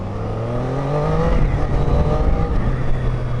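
A Triumph Daytona 660 motorcycle on a test ride, its engine droning loud and close with a rising then settling pitch as it accelerates, engine note steady under wind noise, no talking.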